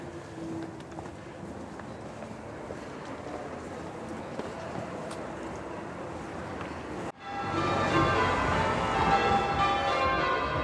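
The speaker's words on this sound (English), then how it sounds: "the church bells are ringing now and it sounds amazing" Bells of Bath Abbey peal out loud and near in the historic city of Bath, a rich ringing that bursts in after a stretch of low outdoor hum and wind-like rumble, then rings on steadily to the end.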